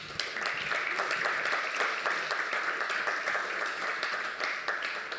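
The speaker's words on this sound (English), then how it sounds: "Round of applause for that." Audience applause at a Manchester seminar, a full, continuous wash of many hands clapping at steady loudness throughout about five seconds, with no voices over it.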